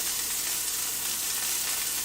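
Pieces of food browning in a hot frying pan give a steady, loud, close sizzle, hissing evenly without breaks.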